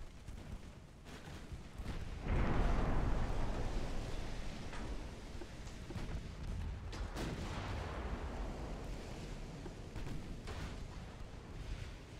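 Naval guns firing in the Ultimate Admiral: Dreadnoughts video game: deep booming blasts with a long rumbling roar that hangs in the air, followed by further distant thuds and cracks over a steady low rumble.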